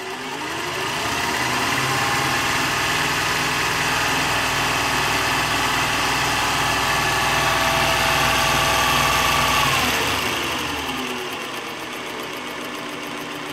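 The motor of a Singer 421G sewing machine, its commutator freshly sanded, hums steadily and close up. It speeds up early, holds an even whirring drone, then winds down near the end.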